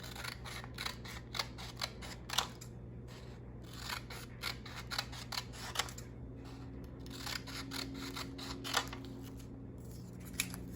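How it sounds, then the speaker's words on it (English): Scissors snip through folded white paper, cutting it into narrow strips with a steady run of crisp, close cuts separated by short pauses, heard alone without speech. "And then I'm going to cut these in half again."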